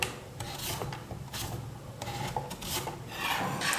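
Vegetables sliced thinly for bakery-style chips, a series of scraping, rasping strokes at a steady rhythm, close and alone.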